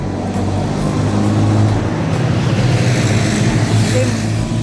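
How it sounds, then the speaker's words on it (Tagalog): A large truck rolls past on a nearby road, a loud sustained engine and tire rumble holding steady throughout, with faint voices beneath. "Tignan mo yung truck, oh, laki."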